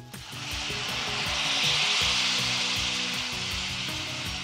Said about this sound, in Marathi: मसाला मस्त परतून झाला की यामध्ये घालूयात पाणी